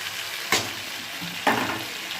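Small kachki fish drop into a spice paste frying in oil, giving a soft continuous sizzle with two sharper splashy bursts as they land, close and with no voices.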